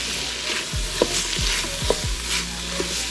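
A spoon scrapes browned bits off the bottom of a pressure cooker pot holding beef short ribs, with a few distinct scraping strokes over a steady sizzle, close-up and with no voices.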